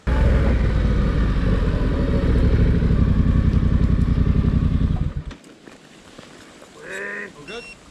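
Adventure motorcycles loaded with luggage ride on a sandy track in Tasmania, a loud close engine roar with clattering that cuts out abruptly, then quiet with a brief voice.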